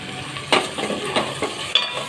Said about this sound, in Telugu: ఇప్పుడు వాటిని కొద్దిసేపు వేగనివ్వండి.